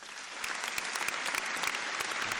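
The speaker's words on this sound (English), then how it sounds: "Round of applause." Audience applause for Lance Todd Feurtado on a podcast, a steady wash of many hands clapping at moderate level with sharp individual claps standing out, no voices.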